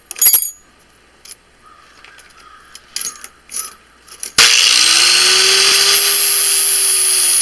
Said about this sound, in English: all I'm doing is just taking my grinder.